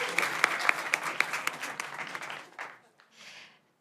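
Audience applause for the nominees at a short film festival award ceremony in San Diego, with close, dense clapping that thins out and fades, then a brief quieter patch near the end.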